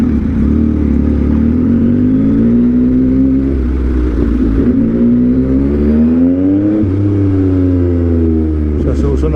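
A large truck rolling along a road near an overpass, its loud engine note rising and falling through gear changes at close range, with someone talking over it.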